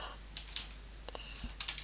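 Quiet, close clicking of a computer keyboard with a few irregular bursts of keystrokes over a low hum, faint and without speech.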